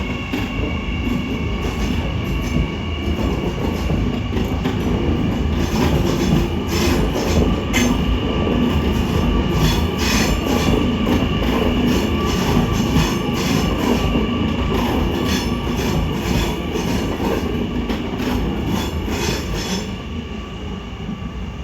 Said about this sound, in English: Meanwhile, an empty Mariang set departs Central.